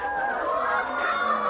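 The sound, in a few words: chickens (layer hens) clucking on a farm in Ghana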